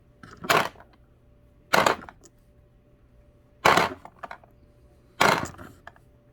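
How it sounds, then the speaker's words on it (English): Dillon XL750 reloading press cycling through 45 ACP rounds, four loud mechanical clunk-and-ratchet strokes spaced about 1.5 seconds apart, close, with a faint steady hum between them. "The press can pump out ammo just as fast as your arm can move."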